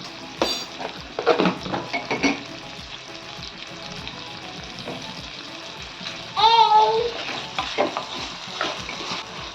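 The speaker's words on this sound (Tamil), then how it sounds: "இப்போது இந்த தக்காளி வதங்கிறதுக்கு தேவையான உப்பு சேர்த்துக்கலாம்" Tomatoes with salt sautéing in a pan for a fish curry base, a steady close sizzle with scraping stirs and a louder burst of frying partway through, no voices.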